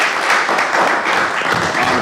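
Applause at a city commission meeting, a dense wash of clapping filling the whole short stretch at steady loudness, with voices faintly mixed in.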